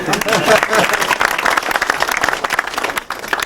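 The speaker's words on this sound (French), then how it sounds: "Merci de vos applaudissements." An audience at a ceremony in a French village community centre applauds steadily, dense clapping filling the whole stretch and thinning toward the end, with voices mixed in underneath.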